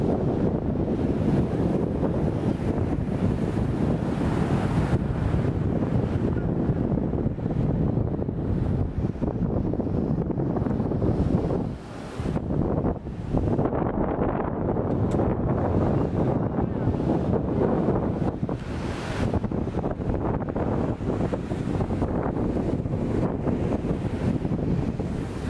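Waves and wind on a beach at a resort in Elmina, Ghana, a steady roaring wash of surf and heavy wind buffeting the microphone throughout, with no clear talk.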